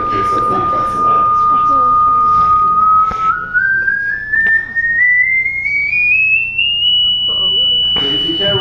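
A pure electronic hearing-test tone holds steady, then glides smoothly upward before settling on a higher constant pitch, loud and continuous beneath someone talking throughout.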